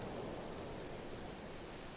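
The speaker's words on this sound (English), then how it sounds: "It is raining." Steady rain falls in Medieval Dynasty, a continuous broadband hiss with no breaks and no talking over it.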